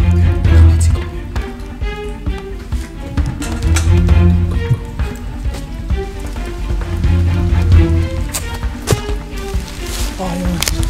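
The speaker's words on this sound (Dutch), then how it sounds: "Het regent zo hard, jongen." Heavy rain patters at night onto a nearby surface, irregular taps and splashes over a dense wash that rises and falls, with some low rumble and handling noise.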